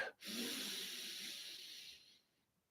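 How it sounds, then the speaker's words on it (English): A slow, deep breath during a guided meditation: after a brief pause comes a long, soft, airy exhale lasting nearly two seconds, fading gently to quiet. "So just take another deep breath, thinking about that."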